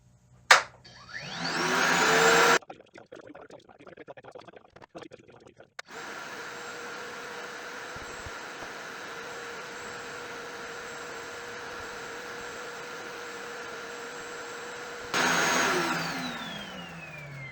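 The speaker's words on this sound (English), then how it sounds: "I'm going to run this on the high speed." A Milwaukee M18 FUEL cordless backpack vacuum whirs up, cuts out, then runs on high speed at a steady high-pitched whine for about ten seconds before powering down.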